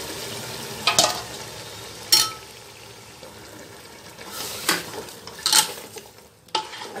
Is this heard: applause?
no